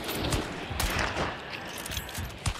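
Bursts of gunfire in the game Hunt: Showdown, a dense crackle of shots with louder cracks near the start, around one second and just before the end, amid continuous game noise.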